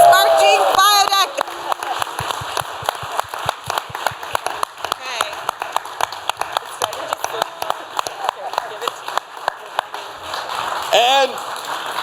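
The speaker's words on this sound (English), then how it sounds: "Give a round of applause!" Dense applause from an audience at the UCLA Innovation Showcase for the winner, a steady patter of many hands lasting several seconds, with a voice briefly at the start and again near the end.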